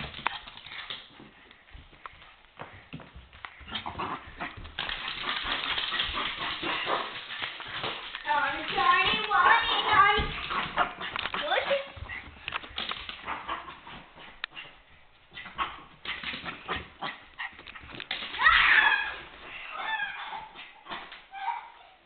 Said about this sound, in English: And that is my dog that protects people.